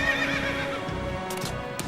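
A horse whinnies in the Final Fantasy XIII video game, a loud, close neigh with clip-clop hooves and a bright, sustained game-music bed underneath.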